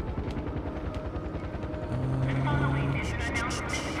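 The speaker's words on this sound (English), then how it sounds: "Can I hear a helicopter? I can." A helicopter approaching in the video game Far Cry 4, a rhythmic rotor thudding that grows louder partway through, with someone talking over it.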